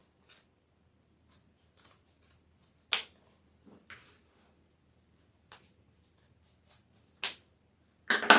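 Scissors snip through ribbon for a Valentine's Day front-door swag wreath, giving a handful of short, sharp, separate cuts spread out with quiet gaps between them, close and fairly loud, with no talking.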